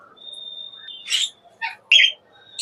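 Several sharp, high chirps and squawks from green parakeets at a bird farm in Dhaka burst out in quick succession, close by, with a thin whistling tone between calls.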